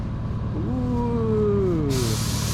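Air hisses steadily from a hose while a car tire is being inflated, a loud continuous rush up close. A brief tonal squeal bends through the middle and the hiss brightens toward the end, with no talking.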